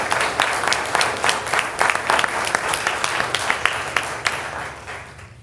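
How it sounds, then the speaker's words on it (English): A civic audience at a State of the City address applauds the city council, a moderately close burst of clapping that peaks early and gradually thins out over a few seconds. "I think that they deserve a round of applause."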